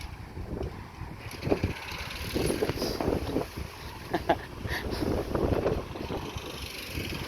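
A sudden wind and rain storm sweeps in outdoors, with steady, loud broadband wind rush and buffeting gusts across the microphone. Irregular surges peak over a continuous roar.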